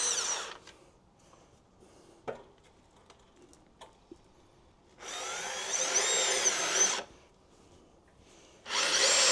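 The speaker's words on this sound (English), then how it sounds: "So I like to use my drill" Power drill run on the rear suspension of a Honda Transalp 750 during a Hyperpro suspension upgrade: two sustained whirring bursts, the first about two seconds long, the second starting at the end, with faint clicks and taps in between.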